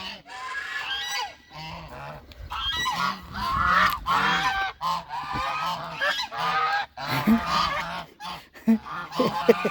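Ducks honk and quack loudly while feeding, a rapid overlapping chorus of nasal calls in irregular bursts, close by, with occasional faint voices underneath.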